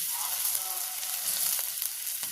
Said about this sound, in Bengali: আদা রসুন বাটাটা দিয়ে 1-2 মিনিট নাড়াচাড়া করে এবার আমি এর মধ্যে কাঁচা লঙ্কাটা দিয়ে দিচ্ছি।